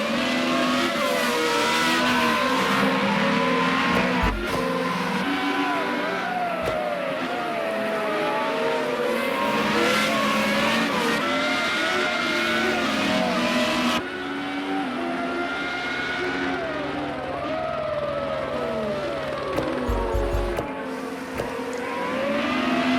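FR35 single-seater race cars battling for the lead at Oulton Park, several engines screaming and shifting pitch as they pass close by, continuous and loud with rising and falling whines throughout.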